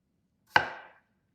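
A single crisp knife stroke through a starchy potato, a close sharp cut ending in a brief dry thud on the board, heard alone in a quiet kitchen.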